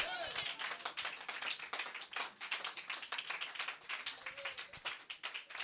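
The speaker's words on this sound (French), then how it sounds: "Donnez-lui une main d'acclamation" A church congregation claps in applause during a French-language sermon, a dense patter of hand claps running steadily through the whole stretch at moderate loudness, with a few voices mixed in among the crowd.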